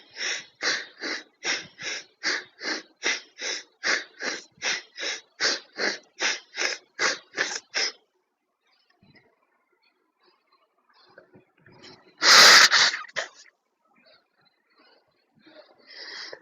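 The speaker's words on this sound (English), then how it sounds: "you breathe in from one, breathe out from the other rapidly" Rapid alternate-nostril yogic breathing during a wellness class: about fifteen quick, sharp nasal puffs in a steady rhythm, then near silence broken by one loud snort-like exhale and some faint breaths.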